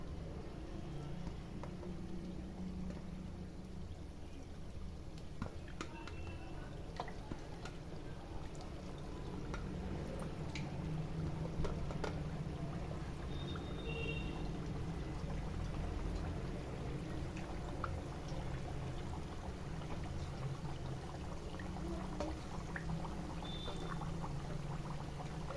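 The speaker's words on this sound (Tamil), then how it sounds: "எல்லாம் எண்ணெயில் போட்டு சுத்தமாக பொரிச்சு எடுத்துக்கலாம்." Chukkappam pieces fry in medium-hot oil with a soft, steady bubbling hiss and occasional faint clicks, quiet and continuous.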